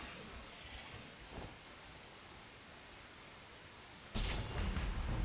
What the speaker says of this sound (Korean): 비가 오기 시작했다.